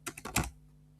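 A handful of quick keystrokes on a computer keyboard while typing a task, close and crisp, four or five taps in under half a second, then quiet.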